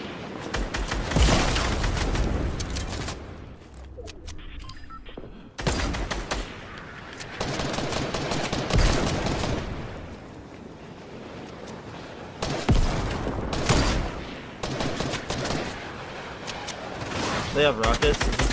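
Explosions and gunfire in a Fortnite match, a loud dense barrage of blasts and rapid shots with a short lull near five seconds before heavy firing resumes, with a voice talking over it.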